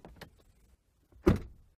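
A car door on an Audi slams shut once, loud and close, with a brief rattle from the left door panel. Quieter knocks and handling noises come just before the slam.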